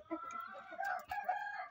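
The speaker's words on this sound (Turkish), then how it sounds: "Dışarıda horoz var." A rooster crows once, a drawn-out strained call heard from a little distance, fairly faint against a quiet background.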